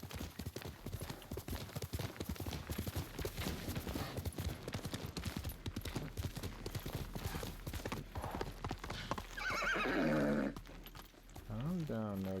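Steady clip-clop of horse hooves trotting in the video game Ghost of Tsushima, mixed with game sounds and a person talking, followed by a short high whinny near the end.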